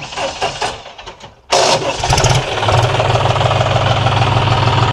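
A farm tractor's engine at an agro-tourism farm cranks and catches, then settles into a steady, loud, low rumbling idle close by after an initial burst.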